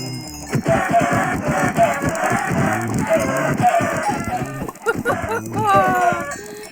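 Many Minecraft chickens cluck and squawk in a busy flurry, with overlapping bursts throughout, under a steady hum.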